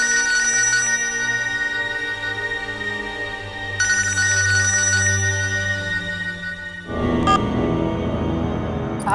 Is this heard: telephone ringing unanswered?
yes